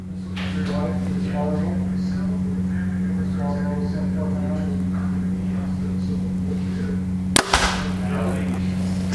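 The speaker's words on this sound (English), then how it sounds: "Smacked my arrows, that didn't sound good." A single sharp smack as an arrow from a compound bow hits other arrows already in the target, loud and brief near the end, over a steady hum and someone talking.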